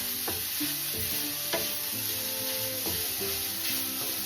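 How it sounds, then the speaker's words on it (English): Sausage meat frying in a pan sizzles steadily while a utensil stirs and scrapes through it with intermittent knocks, close up, with no talking. "Give that a quick stir around, make sure it's coated."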